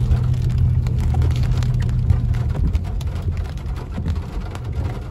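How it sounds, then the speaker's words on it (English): Steady heavy rain in Big Bear, California, with a low rumble of thunder rolling underneath, continuous and fairly loud throughout, no voices. "I think I heard a rumble of thunder."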